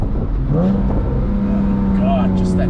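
A 2006 Porsche Boxster S engine revs and climbs in pitch, loud and close from inside the car, with a voice talking briefly over it.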